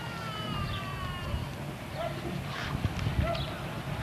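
Horses clip-clop along at a steady pace in a Memorial Day parade amid a noisy outdoor crowd, with people talking throughout.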